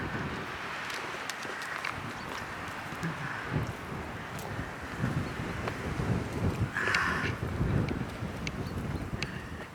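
Cold wind blows outdoors on a countryside walk, buffeting the microphone with a steady rough rumble and occasional gusts, alongside faint scattered rustles and taps.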